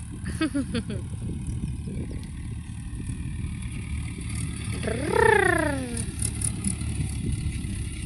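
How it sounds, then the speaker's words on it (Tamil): A tractor loaded with straw drives past on a rural road, its engine drone swelling and fading as it passes close by, over steady outdoor background noise. "டிராக்டர் போகுது பாருங்கள், வைக்கல் ஏற்றிட்டு போகுது டிராக்டர்"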